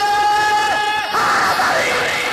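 A crowd at a religious gathering shouts a slogan back in response. Many loud voices rise together in a sustained, chanted yell that swells and holds for about two seconds.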